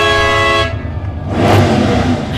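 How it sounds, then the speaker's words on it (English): A parade float vehicle at the Prescott Frontier Days Parade gives a loud, sustained horn blast, then its engine revs in a rough, roaring burst close by. "That was a honk and a rev."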